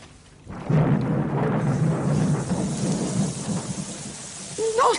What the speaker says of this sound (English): Make it rain, quick.